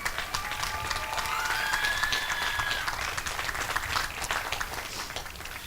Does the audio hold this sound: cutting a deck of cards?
no